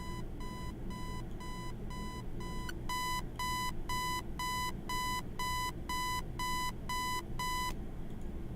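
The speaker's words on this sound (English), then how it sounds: "if you never turn off the alarm clock, he won't actually come into the room" An electronic alarm clock in a video game beeps in steady repeated bursts, about a dozen evenly spaced pulses, loud and alone over a low ambient hum.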